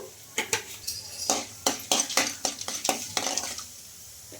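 Chana dal with cumin and mustard seeds frying in hot oil while being stirred, close-up spoon scrapes and clinks against the pan over a steady crackling sizzle, with no voices.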